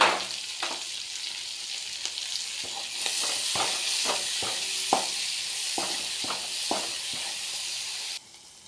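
Loud, steady sizzling of vegetables, including capsicum and sweet corn, sautéing in butter in a pan, with a utensil scraping and clicking as it stirs at a regular pace.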